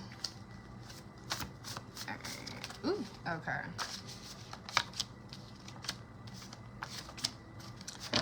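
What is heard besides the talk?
shuffling tarot cards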